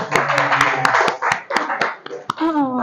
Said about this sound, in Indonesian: semuanya kasih aplaus dulu